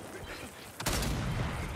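Gunfire in the Gears 5 video game breaks out as a sudden burst of shots, followed by a dense, continuous rumble of firing and explosions.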